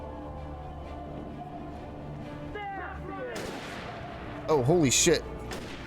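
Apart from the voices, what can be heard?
gunfire from enemies shooting, from the video game Alan Wake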